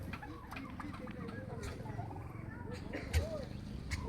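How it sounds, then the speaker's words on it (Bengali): Turkeys cluck and gobble on a farm, with scattered bird calls over a busy background and someone talking throughout. "কত টার্কি আছে দেখো এখানে, ভর্তি টার্কি।"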